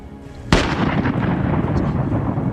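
Counter-battery fire from G5 howitzers: a single heavy, sharp boom erupts partway in, followed by a long rumbling roll that stays loud to the end.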